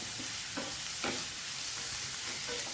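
Fennel powder and curry leaves are sautéed in a pan for a vegetable kurma, making a soft, steady sizzle broken by a few short scraping stirs of a spoon.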